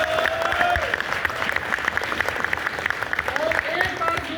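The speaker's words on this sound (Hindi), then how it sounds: "तो इनके लिए एक बार जोरदार ताली है।" Loud applause from an audience, sustained dense clapping with crowd noise and some voices mixed in, holding steady for several seconds.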